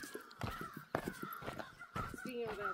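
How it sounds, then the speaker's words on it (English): Crows cawing repeatedly in a raucous group out on a trail, harsh calls coming in overlapping bursts at close to moderate distance with a steady outdoor background. "Sounds like the crows are having a party down there."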